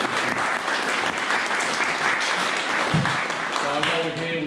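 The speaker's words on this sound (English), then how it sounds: "So put out a big round of applause." Dense, loud audience applause after a talk on the Second Battle of Krithia, 1915, a continuous wash of clapping with a voice emerging near the end.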